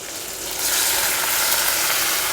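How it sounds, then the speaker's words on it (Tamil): Chopped tomatoes for Mumbai sambar hit hot oil in a pan and break into a loud, steady sizzle that swells within the first second and carries on close up, with no talking. "சேர்த்துட்டு தக்காளி நல்லா வதங்குற வரைக்கும் வதக்கி எடுத்துக்கோங்க."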